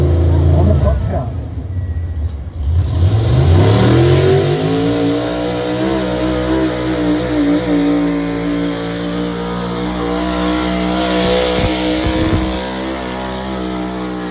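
A modified 4x4 Chevrolet street truck at a tractor pull revs loud and close, its engine note rising steeply early on, then holding a sustained, rumbling roar through the run, with an announcer talking over it.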